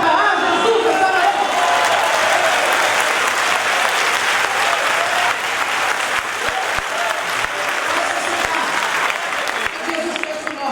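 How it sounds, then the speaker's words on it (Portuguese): Church congregation applauding during a service, dense sustained clapping from a crowd filling the room at a steady loud level for about ten seconds. "Aplauda a Jesus essa manhã."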